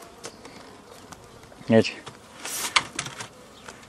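Honey bees buzz inside a populated beehive of a new hive model, with a loud close burst of droning followed by a second swell, while a person speaks briefly.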